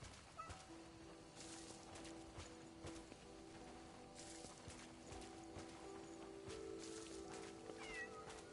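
A cat meows several times at moderate distance, with drawn-out, wavering cries over a faint background hiss, and no talk.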